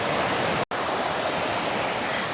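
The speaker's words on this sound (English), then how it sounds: "It's not a big waterfall, but it sure is pretty." A small waterfall on a Michigan river pours steadily, a broad continuous rush of water close by with no voices.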